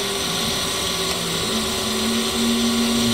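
A Brown & Sharpe 2 HP 6 x 18 inch Micromaster surface grinder whines steadily up close, its motor pitch rising as the throttle speeds it up, a continuous mechanical drone with no talk.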